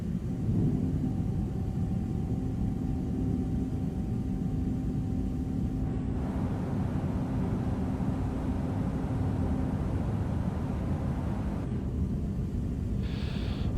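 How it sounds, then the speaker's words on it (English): Landing gear lowers on a Lufthansa Airbus A320neo in stormy weather, heard as a steady loud cabin rumble with a shift in roar partway through and a later change in the airflow noise, with no talk. "Let's get the gear down."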